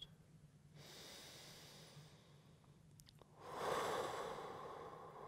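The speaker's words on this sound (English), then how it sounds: "making sure your breathing is nice and long and relaxed" Slow, relaxed yoga breathing comes up close and soft: a long airy breath, a brief pause with a faint click, then a longer, fuller breath, with no talk.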